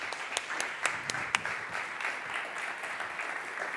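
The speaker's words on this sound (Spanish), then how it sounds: "Un aplauso grande para Mara." Soft, distant audience applause at a Telefónica event welcoming a speaker, with a few sharper individual claps standing out early before it settles into an even patter.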